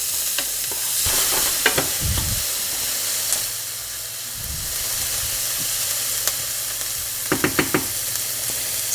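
Onions frying in a pan, a steady close sizzle and hiss with occasional stirring scrapes and knocks of the utensil against the pan, no voices.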